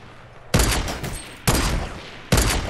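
Three sharp gunshot bursts from the video game Fortnite, each hitting loud and decaying quickly, spaced about a second apart with no talking.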